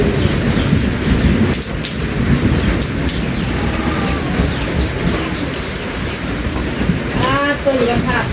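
Steady heavy rain pours down throughout, with rolling thunder rumbling low beneath it, on a rainy day.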